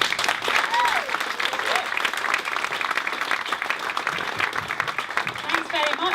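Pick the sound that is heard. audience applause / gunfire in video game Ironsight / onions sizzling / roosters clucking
audience applause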